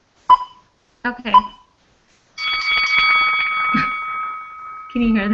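A timer beeping steadily during an online flier critique, a bright electronic alarm tone sounding for about three seconds after brief speech, then voices resume.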